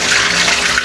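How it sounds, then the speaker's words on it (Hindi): Water splashes and pours out of clothes soaked for washing, a short, steady, close gush with no talking. "ये पानी गिराने के बाद हम जाएंगे नीचे।"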